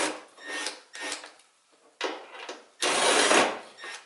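A 7/16 wrench ratchets out bolts on a mower, giving repeated close rasping, grinding bursts separated by brief pauses, ending in a longer, louder stretch of scraping.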